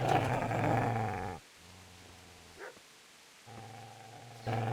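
A dog in Kingdom Come: Deliverance growls in deep, menacing rumbles, a long loud burst, then quieter low snarling, ending in another loud growl, with no talk over it.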